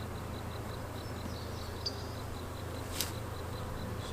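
A honey bee swarm hums steadily inside a hive box, a constant low buzz with a faint repeating high tick and a brief sharp knock near the end.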